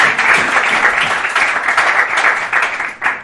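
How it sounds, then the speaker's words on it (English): Students at a high school boys' banquet give a round of applause, a dense burst of clapping from a roomful of people that holds steady throughout and thins briefly near the end. "I think we deserve to give ourselves a round of applause for making it through this year"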